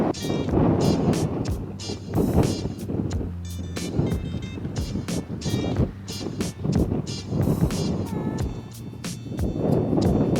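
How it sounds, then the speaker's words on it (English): Strong wind buffets a microphone at a high mountain lookout near Estes Park, Colorado, a loud, continuous rumbling roar with gusty swells across the whole stretch and no clear speech. "Wind is like a lot more."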